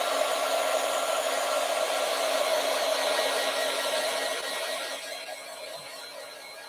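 A hair dryer blows steadily on a watercolor card, a loud, close, continuous whirring rush with a hum under it that eases off slightly near the end.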